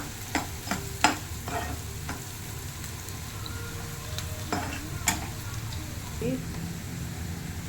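Cashews roasting in a pan over a low flame for bisi bele bath, with a soft constant sizzle, scattered scraping stir strokes and a few sharper clicks, while a voice talks over it.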